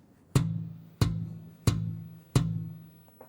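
Four dull, pitchless plucked thumps on a bass string, evenly spaced about two-thirds of a second apart, each decaying quickly, no voices.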